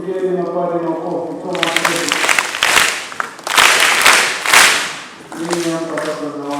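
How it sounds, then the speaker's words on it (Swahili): A crowd claps for priests at a Catholic Christmas-season children's gathering, a burst of applause swelling for several seconds between stretches of talk. "Wapigeni mapadri makofi."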